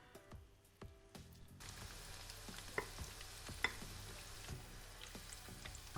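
Onion bhaji frying in hot oil, a steady close sizzle and crackle with scattered pops and a few stirring clinks at the start.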